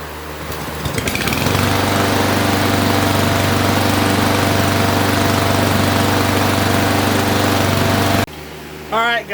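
A push lawn mower engine, freshly tuned up, starts and settles into a loud, steady, close droning run for several seconds before cutting off abruptly, leaving a brief quieter rattle.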